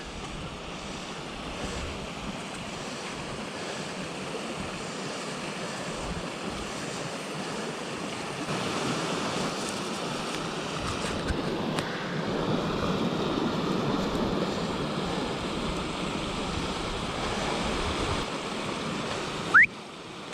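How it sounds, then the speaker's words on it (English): Water from a stream flowing out of a pond rushes steadily and fairly loudly for the whole stretch, mixed with gusty wind noise and ending in a brief sharp knock. "I think this is the stream that comes out of the pond."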